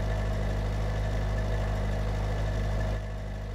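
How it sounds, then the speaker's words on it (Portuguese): A car engine in the game My Summer Car holds a steady droning drone at its rev limit around 100, loud and constant, then drops slightly in level near the end; no one talks. "O carro cortou o giro no 100 ali e bambeou."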